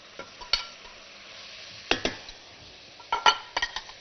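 Fried chicken pieces are stirred into sizzling fried onions in a pan, with a soft frying hiss beneath sharp scraping and clinks of a utensil against the pan at irregular intervals.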